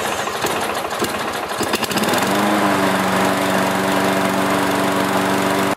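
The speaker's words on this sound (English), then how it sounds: "So what I'm going to do is run this mower for 1 minute" A Toro Recycler lawn mower engine starts up roughly, then settles into a steady, loud, close running drone with a constant hum and no talk over it.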